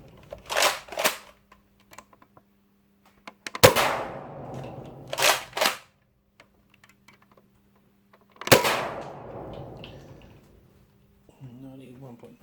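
A modified Nerf Mega Magnus shotgun blaster fires twice, each a sharp close snap with a short rattling tail, separated by several seconds, with a few quieter clicks and handling sounds between.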